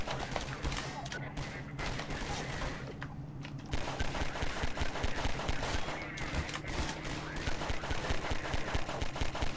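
Rapid bursts of gunfire from a light gun video game crackle continuously in a dense, loud barrage, with a brief lull before resuming, as someone plays with a gun-shaped mouse controller.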